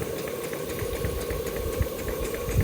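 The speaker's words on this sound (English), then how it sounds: "one of the big tests of a steam engine is how slowly you can get it to run" A small Stuart beam steam engine runs slowly on steam, giving a steady low mechanical chugging with faint regular knocks and a continuous hiss throughout, moderately close and without voices.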